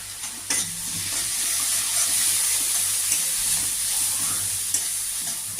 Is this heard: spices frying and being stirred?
yes